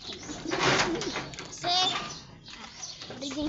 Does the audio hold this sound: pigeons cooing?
yes